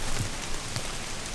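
Rain falling steadily on a flimsy bin bag shelter outdoors, a soft continuous hiss with a few faint patters, no talking.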